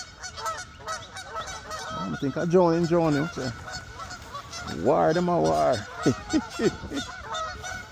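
Waterfowl calling on a lake during a kayak fishing outing, loud honking bursts in two clusters with someone talking between and over them.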